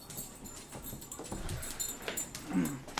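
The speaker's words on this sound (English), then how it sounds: "Here's the dogs." Pet dogs whimper and pant close by indoors, with soft breathy panting, scattered whines and a few scuffling movements, no talk.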